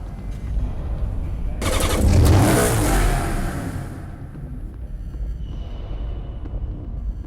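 A Maserati Quattroporte luxury sports sedan in Need for Speed Hot Pursuit revs hard, a loud broad engine roar swelling for about two seconds before fading to a low steady rumble.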